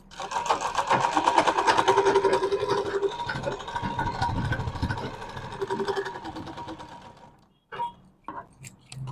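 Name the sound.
sewing machine stitching a bag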